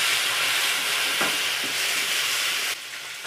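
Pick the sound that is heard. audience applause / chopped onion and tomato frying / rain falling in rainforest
chopped onion and tomato frying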